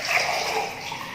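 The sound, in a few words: water poured into a beaker with a lemon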